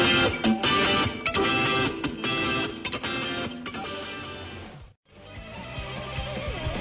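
A song plays on a radio show, a full rock band mix with drums, guitars and vocals, loud and continuous, then a brief dip near the end before the music swells back.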